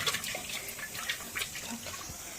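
Water is poured into a pressure cooker over spiced mutton, giving a soft, faint splashing and trickling that lasts a couple of seconds with light clinks, no voices over it.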